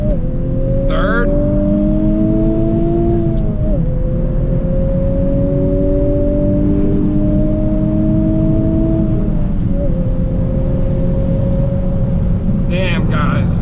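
A 2021 Honda Civic Type R pulls hard at full throttle, its loud engine drone rising steadily in pitch, dipping briefly at two gear changes, then climbing again, with steady road roar underneath.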